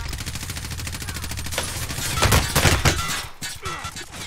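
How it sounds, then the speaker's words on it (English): Gunfire in the shooter game Warzone, rapid bursts of shots rattling in quick succession and swelling louder midway, with game effects around them. "God, that pissed me off when he shot at me"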